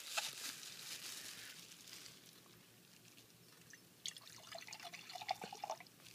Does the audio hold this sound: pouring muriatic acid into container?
yes